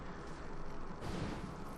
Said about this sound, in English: And a big explosion goes off and basically downs us.